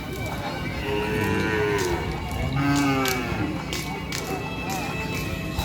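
A racing bull from Pamekasan moos during a group training session at a bull-racing field. Several drawn-out, mid-distance lows rise over steady crowd noise and chatter.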